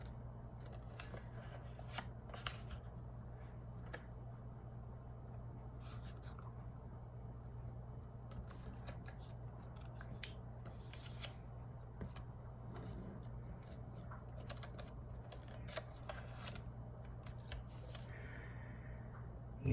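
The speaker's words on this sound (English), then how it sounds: "you are going to take the bottom edge of the paper and you are going to fold it to the very top crease" A sheet of origami paper is folded and creased for a sonobe unit, giving soft, close crinkling and sharp scraping strokes scattered over a low steady hum.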